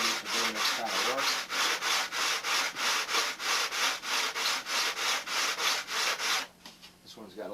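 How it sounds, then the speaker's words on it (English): A sanding block is rubbed back and forth on a surface in steady, even strokes, about fifteen close, loud passes, and the strokes stop near the end, with no one talking. "These are just various sanding blocks that I have that was handy for doing this kind of work."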